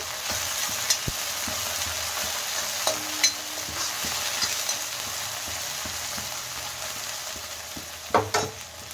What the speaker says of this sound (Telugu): ఉల్లిగడ్డ పచ్చివాసన పోయినాక కొంచెం కరివేపాకు కొత్తిమీర కొంచెం వేసుకొని కాస్త వేగేదాకా కలపాలి